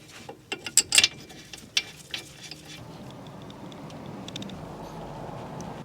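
Bolts are refitted to the brake carrier of a Peugeot 208, heard as a quick series of sharp, close ratchet clicks, followed by quiet faint mechanical rustling.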